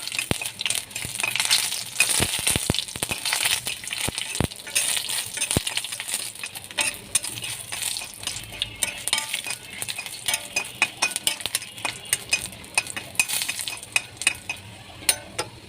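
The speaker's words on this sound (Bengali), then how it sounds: "চুলা যে কড়াই বসানো ছিল তার মধ্যে আমি মরিচগুলোকে লাল করে নেব" Chillies fry in a wok on a stove, a low sizzle under frequent metallic clicks and scrapes of a spatula stirring against the pan, close and uneven over a long stretch.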